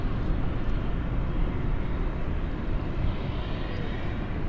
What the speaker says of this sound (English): That is the emergency plane now up in the air.